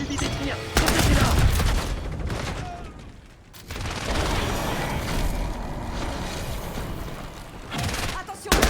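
MP40 submachine gun fire in a multiplayer video game match: dense, rapid bursts of automatic shots with booming impacts, broken by a brief lull, while game announcer voices speak throughout.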